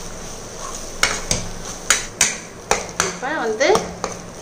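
Spice masala of chilli powder, turmeric, coriander powder and salt is sautéed in a pan for Madurai ayirai fish curry, with sharp intermittent spoon knocks and scrapes against the metal beside a brief spoken remark.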